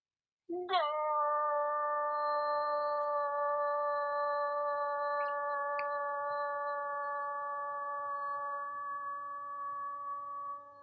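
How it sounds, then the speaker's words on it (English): A sustained electronic tone with a wavering, voice-like pitch holds steadily for about ten seconds after a sharp onset, like a game's goal jingle. "So this is the sound it would make if you scored a goal."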